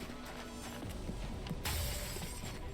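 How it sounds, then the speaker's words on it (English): Glass shatters in the video game XCOM: The Long War, a bright crash partway through that follows a stretch of quieter game sounds and then trails off in scattered tinkling debris. "Did really need to destroy that glass like that"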